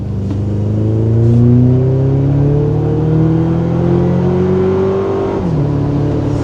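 A Toyota Tacoma pickup engine revs hard under full throttle from 20 mph, its pitch climbing steadily as it accelerates, loud and close, then dropping briefly as it shifts.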